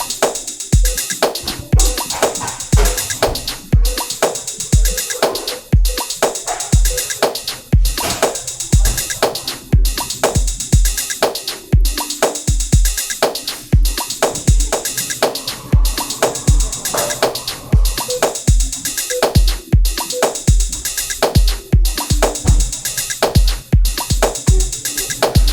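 A Casio synth emulation in Studio One plays a loud, dense electronic pattern with a steady punchy beat and bright synth tones, continuous with no talking.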